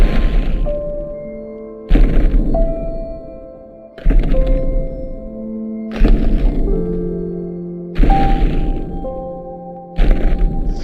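The ogre's footsteps in an animated Jack and the Beanstalk land as six heavy, booming thumps spaced about two seconds apart, each ringing out with musical tones in between.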